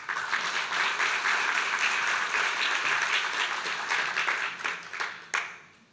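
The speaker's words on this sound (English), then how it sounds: "I think the Charity Council deserves an applause" An audience at a charity conference welcome address gives the Charity Council a round of applause, steady dense clapping from many hands, moderately distant, thinning out with a few final claps near the end.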